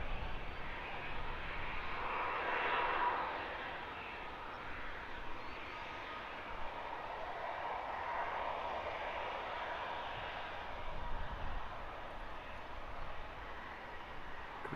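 An airliner on a Valencia departure lines up at London Luton Airport, its engines giving a steady, fairly distant rumbling hum that lasts throughout with no talk over it.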